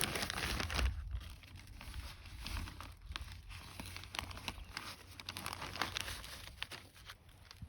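Quiet, irregular crinkling and rustling of a plastic bag handled close by during walnut grafting, with scattered soft crackles and taps and no speech.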